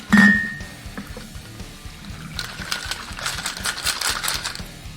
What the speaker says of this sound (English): So you add ice.